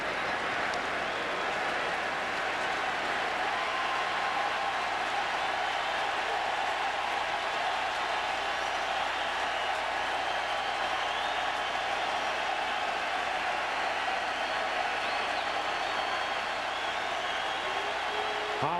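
A baseball stadium crowd at a 2011 American League Championship Series game keeps up a steady, dense roar of cheering and applause, sustained at an even level with no pauses.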